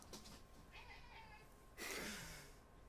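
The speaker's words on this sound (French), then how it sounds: "putain de chat!" A house cat meows near the microphone indoors, giving a couple of drawn-out, whiny calls followed by a louder, rough caterwaul, with no talking over it.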